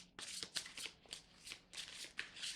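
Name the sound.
shuffling tarot cards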